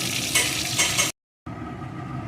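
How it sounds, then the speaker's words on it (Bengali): Magur catfish pieces frying in hot oil give a steady, close sizzle with faint stirring, broken by a brief pause before the frying hiss resumes, slightly quieter. "বাকি মাছগুলোকেও এই একইভাবে ভেজে নেব"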